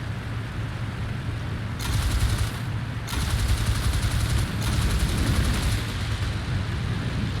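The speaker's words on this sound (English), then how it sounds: "Couple of shots in there" Sustained gunfire in the aerial combat game Il-2 Flying Circus, rapid rattling bursts starting and stopping over a constant engine drone, loud and close.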